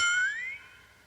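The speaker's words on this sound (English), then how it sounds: "Sounds like bells." A single bright bell-like tone from a sound-effects tape rings out, its pitch bending upward before fading away quickly.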